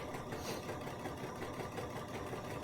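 A Bernina sewing machine stitches a buttonhole bar tack, giving a close, steady, rapid mechanical whirr with fast needle pulses that run unbroken throughout.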